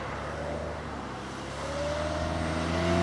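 Steady road traffic on the A27 main road near Firle, Lewes, vehicles droning past with a rising engine note toward the end.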